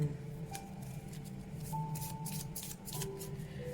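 Tarot cards being shuffled by hand, a steady close riffling and sliding of the deck running throughout at moderate loudness, with faint tonal background hum and no talk.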